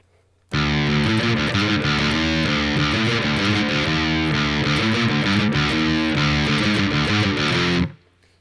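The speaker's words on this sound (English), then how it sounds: "I'm just playing with a regular distortion." Heavily distorted electric guitar playing a driving riff, loud and sustained for several seconds before cutting off abruptly.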